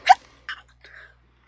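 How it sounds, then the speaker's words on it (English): One sharp sneeze bursts out up close, followed by two fainter breathy sounds, then quiet. "I had to sneeze"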